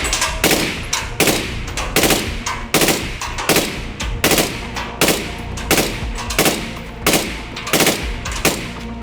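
A suppressed 5.56 NATO rifle fitted with a B&T titanium suppressor fires short bursts of three to five rounds, sharp muffled cracks in tight clusters, loud and close, repeating steadily with brief gaps.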